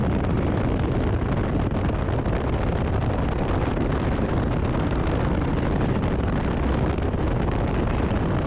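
Riding a 2021 Harley Davidson Lowrider S motorcycle on the road, heavy wind buffeting blends with a deep engine roar in a loud, continuous rush with no talking.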